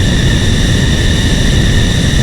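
Steady jet-style aircraft engine drone from the video game AeroWings 2: Airstrike, a loud, continuous broadband roar with a constant tonal whine, unchanging throughout and with no voices.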